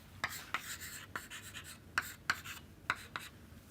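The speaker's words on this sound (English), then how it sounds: "let me write it down here" Pen or marker strokes on a surface while notes are written by hand, a series of short, crisp scratching taps in an irregular rhythm, close and fairly quiet, with no talking.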